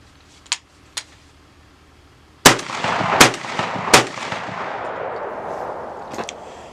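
A Benelli Super Black Eagle 3 shotgun fires 3.5-inch shells outdoors: three loud, sharp blasts about a second apart with rolling echo, preceded and followed by a few fainter distant shots.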